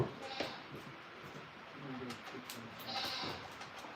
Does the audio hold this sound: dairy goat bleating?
yes